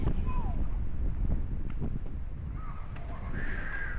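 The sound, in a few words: strong wind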